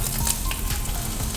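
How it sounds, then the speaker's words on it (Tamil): Mustard-free tempering of black pepper, cumin, chopped ginger and green chili crackling in hot oil and ghee in a kadai for millet pongal; a steady, close, continuous sizzle with no voices. "இப்போ தாளிக்கிறதுக்கு கடாயில் ஒரு 2 டேபிள் ஸ்பூன் அளவு எண்ணெய் ஊற்றிக்கலாம்"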